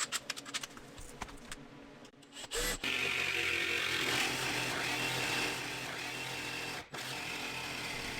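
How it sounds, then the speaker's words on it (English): A step drill bit bores a hole through a Ford Transit van panel, giving a loud, steady grinding whine for about five seconds that drops to a lower, sustained drone, with a brief interruption near the end. "Now we use our step bit to drill a hole for the jigsaw."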